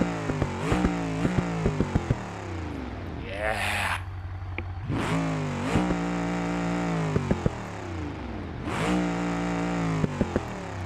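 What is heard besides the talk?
modernized Barstow race car engine revving, from video game BeamNG.drive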